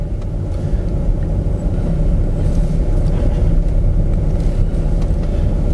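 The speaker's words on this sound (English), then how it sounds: "Drive along, gonna be looking for spaces" A Volkswagen California rolls slowly while searching for a parking space, producing a steady low engine and road rumble from inside the cabin, with no voices.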